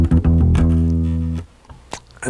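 Fingerstyle funk bass plays a short, punchy line of octaves and chromatic intervals. Muted notes give way to a sustained, booming low note, followed by light string thumps, loud and close.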